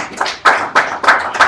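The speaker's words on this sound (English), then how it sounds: "I think you guys deserve a round of applause from your fellow senators for doing a good job" A small group of senators claps in a session, about five distinct bursts of clapping in quick succession, close and fairly loud, with no talk over it.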